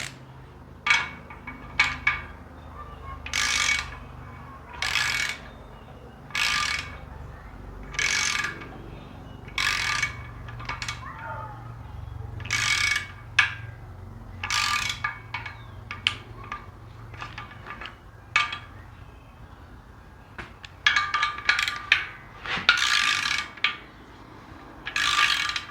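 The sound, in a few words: wrench torquing engine bolts on a Gen 3 5.3 V8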